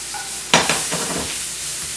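Sliced mushrooms hit a hot pan and start to sizzle, a sharp close burst followed by a steady frying hiss with a few stirring scrapes and no talking.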